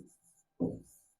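Pen writing on paper while a class 10 maths problem on linear equations is being worked, heard as a short faint scratch followed by one louder, close stroke.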